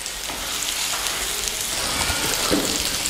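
Chopped onions with curry leaves sautéing in a pan for a village-style smelt fish curry, a steady close sizzle and crackle running unbroken throughout.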